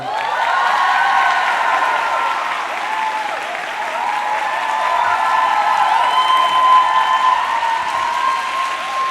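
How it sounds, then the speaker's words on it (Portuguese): Clapping from a church congregation greets a pastor, a steady, full applause throughout, with faint cheering mixed in and no clear speech. "Eu quero que você receba ela com uma salva de palmas hoje aqui."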